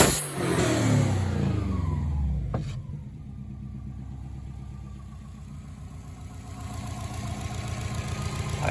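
Subaru Outback XT turbo engine fitted with a performance cat-back exhaust and performance intake, revving up loudly then settling into a steady, low, even rumble at idle with a slight rise near the end; no talking.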